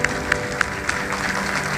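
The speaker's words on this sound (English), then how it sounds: "I think big applause to DFCCIL." Audience at a DFCCIL foundation day event applauding briefly under a steady background hum of the hall, with a few distinct claps standing out over less than two seconds.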